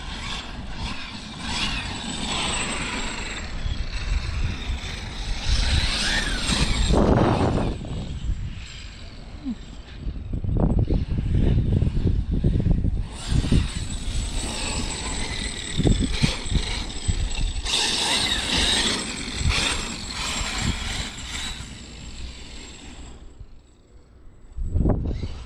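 A Traxxas X Maxx RC truck running a Max 5 G2 1100KV brushless motor, its high-pitched electric whine rising and falling in repeated bursts of acceleration against a steady background of wind and outdoor noise, with no voices.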